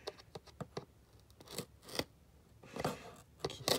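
Scissors snip and scrape through tape on the box of a FIFINE K670 condenser microphone, giving a few close, sharp cuts with quiet pauses between them.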